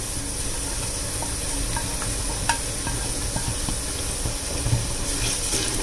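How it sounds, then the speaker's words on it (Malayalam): Chopped onion and green chillies added to beef in a pan, sizzling as a continuous broadband hiss that stays steady and close throughout, with a few faint clicks and no talk. "ഇനി ഇതിലേക്ക് നമ്മൾ അരിഞ്ഞു വെച്ചിരിക്കുന്ന സവാളയും പച്ചമുളകും കൂടെ ചേർത്ത് കൊടുക്കാം."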